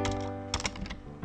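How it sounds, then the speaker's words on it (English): Rapid typing on a computer keyboard, with clusters of light clicks heard over a steady musical tone in the background. "we're going to type down the same line that we did earlier in the manifest file"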